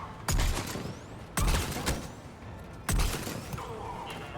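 Gunfire in the video game Mass Effect 3 rings out as three loud, separate bursts of shots spaced about a second or more apart, each fading into a reverberant tail.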